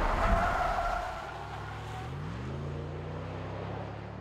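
A Range Rover Sport premium SUV weighing 2.6 tonnes, with a supercharged 5-litre direct-injection engine, runs on a race circuit; its engine drone rises in pitch, steady and moderately loud, with wind noise.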